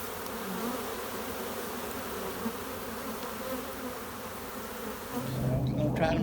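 Honeybees buzzing around a hive: a steady, dense drone of many wings close by, lasting throughout with little change and a slight swell near the end.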